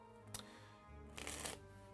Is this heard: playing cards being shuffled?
yes